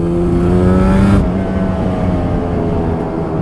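A Yamaha RD350 or RZ350 F2 YPVS classic two-stroke motorcycle pulls hard under acceleration while riding, its engine giving a loud buzzing drone with rising harmonics, then dropping slightly in pitch as wind noise lingers close to the rider.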